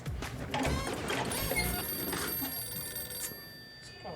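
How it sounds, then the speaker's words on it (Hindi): A telephone rings in a household scene from a Hindi TV comedy, its bell-like tone repeating steadily over a cluttered background with no talk. "हे भगवान, सुंदर भाई से कहना कि अब फोन उठाए"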